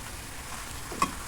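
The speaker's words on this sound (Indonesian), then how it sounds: "Goreng kentang di api sedang." Potato pieces frying in hot oil over medium heat, giving a quiet, steady sizzle with one brief sharper pop near the end.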